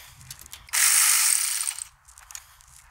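Ratchet fitted with an 8mm socket loosening the ABS sensor wire bracket on a 2019+ Ford Ranger spindle, heard as one loud, close, continuous ratcheting burst lasting about a second, with faint clicks before and after.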